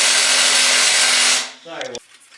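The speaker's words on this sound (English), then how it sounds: "I'm gonna pop out the drive shaft bolts real quick." A power tool whirs loudly and steadily on the drive shaft bolts of a drift car, then winds down, followed by a few short clunks and rattles of metal parts.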